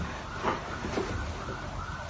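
A fire truck siren wails faintly in the distance, a steady rising-and-falling tone heard through loud background noise.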